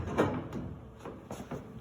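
A wooden door on a church chancel organ's pipe division is swung shut, giving a few soft knocks and clunks over quiet room noise, with no talking.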